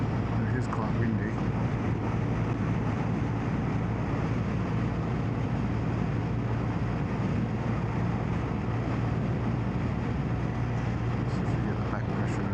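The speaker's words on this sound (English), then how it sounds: "It is quite windy." A constant, heavy roar of wind buffets the microphone with a low engine rumble beneath, loud and unbroken throughout, riding at speed on a BMW R1250RT motorcycle with a Wunderlich Marathon windscreen.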